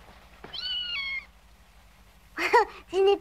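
Animated cartoon kitten meowing in an Alpine home at night, one drawn-out high meow followed after a pause by two shorter, closer cries, over a faint low hum.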